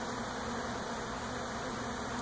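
Bee swarm arriving at a trap, a steady dense buzzing hum heard close and continuous, with no voices.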